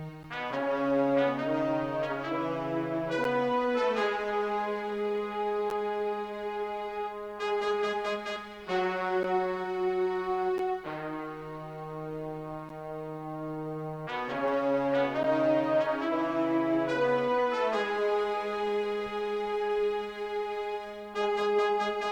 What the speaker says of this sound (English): a brass section, and lastly I added French horns and a trumpet from